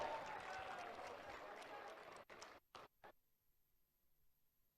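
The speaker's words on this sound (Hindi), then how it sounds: "जोरदार तालियां।" Loud applause from a crowd at a ceremony for the tug-of-war winners, steady dense clapping that cuts off abruptly after about two seconds, followed by a few scattered claps and quiet.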